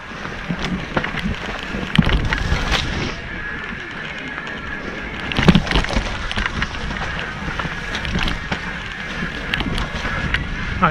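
Kayak paddle strokes splash and swish through the water in quick, irregular pulses, close and fairly loud, with steady wind buffeting the microphone throughout.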